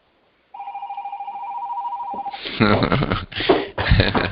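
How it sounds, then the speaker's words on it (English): A telephone rings with a steady electronic warble of two held tones for about two seconds, then a person starts speaking loudly over it as the ring is cut off. "We have phone ringing here."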